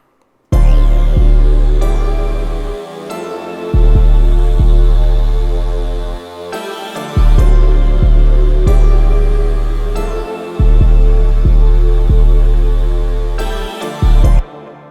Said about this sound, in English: I have rolled it off at like 27 hertz so that the 808 would hit a little bit harder.